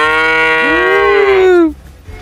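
A buffalo at a buffalo farm gives one long, loud, close moo that rises and then falls away, with faint background noise after it.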